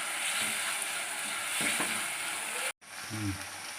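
Curry leaves frying in hot oil in a pot for a small-onion and garlic kuzhambu, a steady close sizzle with a few soft clinks, cut by a brief silence before a voice speaks.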